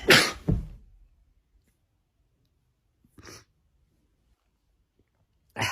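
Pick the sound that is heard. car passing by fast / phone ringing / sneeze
sneeze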